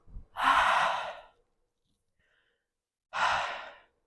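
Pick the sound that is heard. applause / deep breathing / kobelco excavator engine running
deep breathing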